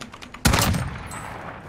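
One sharp, loud gunshot in Call of Duty Warzone cracks out after a quiet moment and rings off in a decaying tail, preceded by faint background game noise.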